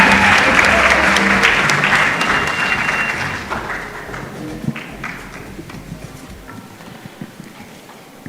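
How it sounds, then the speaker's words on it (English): An audience applauds at an awards ceremony at a national research festival. The dense clapping is loud at first, then gradually thins and fades toward the end. "Let that round of applause go one more time,"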